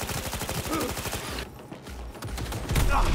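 Rapid automatic gunfire from Cyberpunk 2077 rattles in fast repeated bursts, breaks off briefly, then returns with heavier, booming shots, loud and close.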